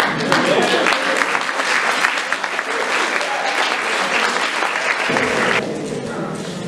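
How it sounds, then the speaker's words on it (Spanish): A school debate audience applauds the winning team in steady, dense clapping that stays loud throughout, then thins slightly near the end as someone talks. "Un aplauso para los ganadores."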